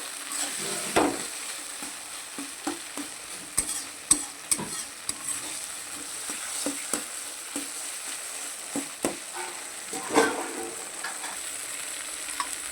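Mashed eggplant for baingan bharta being stirred in a pan, a soft sizzle beneath repeated scraping and tapping strokes of the spoon at an irregular pace, close and fairly quiet.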